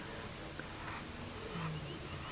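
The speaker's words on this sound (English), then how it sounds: "I can hear more lions roaring south of us in the distance" Lions roar far off on an early-morning safari drive: faint, low calls under a constant hiss of open-air background noise.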